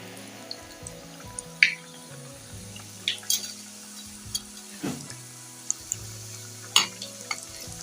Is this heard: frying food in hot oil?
yes